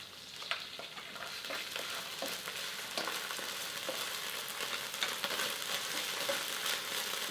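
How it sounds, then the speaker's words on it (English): Ginger paste sizzling as it fries in a pan for a vegetable curry, a steady crackling hiss with occasional stirring scrapes throughout, no voices. "Now I'm going to go ahead and add some ginger paste."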